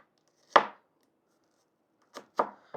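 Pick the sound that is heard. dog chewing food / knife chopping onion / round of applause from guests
knife chopping onion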